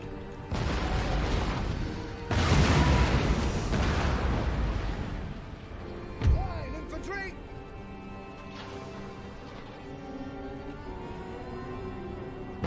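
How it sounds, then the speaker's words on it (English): Many guns firing in a battle in Empire: Total War, a booming, rumbling barrage that swells sharply early on, then settles into a steady distant roar with a single louder thud partway through. "So many guns firing."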